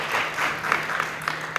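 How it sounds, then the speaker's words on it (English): Brief, fairly soft clapping from a lecture audience welcoming a speaker, a short patter of hands in a small room. "could give Amy a round of applause"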